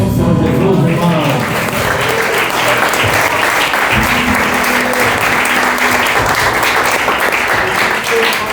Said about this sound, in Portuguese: Aplauda o nome do Senhor Jesus, irmão.